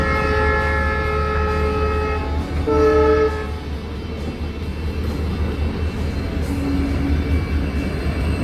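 Kanchanjunga Express 13175 passing near Dibolong station in northeast India, with a loud rumbling roll of wheels throughout and sustained multi-tone horn blasts early on, then a shorter low horn note near the end; no talking.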